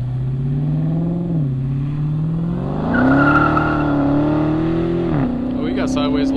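A supercharged car's engine revs and climbs in pitch as the tires squeal briefly while it slides sideways at a cars and coffee meet, loud and close, with voices talking over it.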